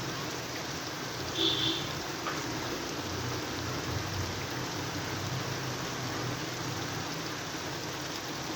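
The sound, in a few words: steady rain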